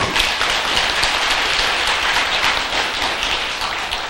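A congregation applauds a choir at a Buddhist dharma service in a Seoul temple hall, with dense, even clapping from many hands in a steady patter like heavy rain, sustained throughout.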